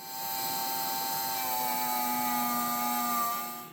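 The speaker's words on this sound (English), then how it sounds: "I'm going to use my Dremel." A Dremel rotary tool grinds a classic electrician's knife blade from Klein Tools, a steady high-pitched whine that runs continuously at close range with a faint pitch drift, no talking.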